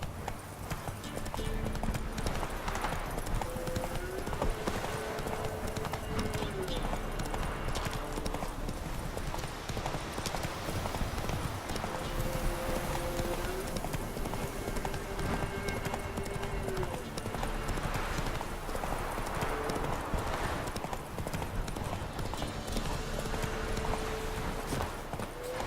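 Roach, a horse in The Witcher 3, gallops steadily with rapid rhythmic hoofbeats that carry through the whole stretch, set against a continuous ambient game bed with occasional low whinny-like tones.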